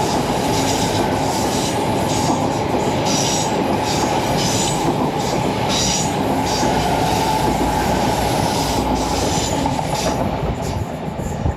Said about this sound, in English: Here we see Class 802-110 passing through Lostwithiel with a Penzance to London Paddington service.